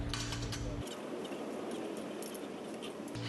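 A ratchet tightens the skid plate bracket fasteners on a RZR 4, giving quiet, rapid clicking close by, with a brief heavier thud at the start and no talk.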